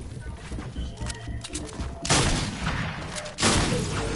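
Rapid bursts of gunfire from a Fortnite match, a spray of shots with two loud broadband blasts standing out after the first couple of seconds, mixed with game sounds and some voice.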